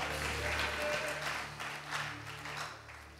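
A church congregation claps their hands together, a dense, steady burst of applause from many people in a large room that gradually tapers off, with a low organ-like hum underneath.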